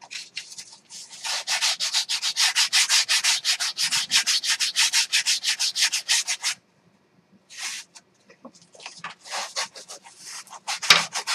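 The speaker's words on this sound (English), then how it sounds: "This stuff sands real nice too." Foam is sanded by hand for a PhlatLAB project: a long run of quick, even back-and-forth rasping strokes, close and loud, then a pause and a shorter, choppier burst of scraping.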